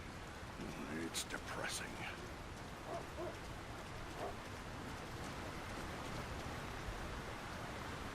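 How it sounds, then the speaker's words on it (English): Steady rain pours over a town in the Lord of the Rings: War in the North video game, a constant hiss lasting throughout, with a voice speaking briefly over it and a few faint chirps early on. "Who could live in a town where it's always raining?"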